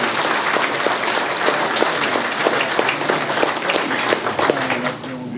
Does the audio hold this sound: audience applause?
yes